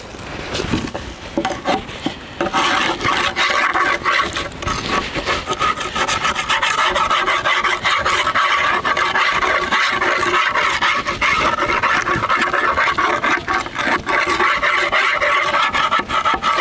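Debris being scraped off a wooden beehive frame into a trash pile, a loud, continuous close rasping and rubbing that runs steadily with only brief breaks near the start.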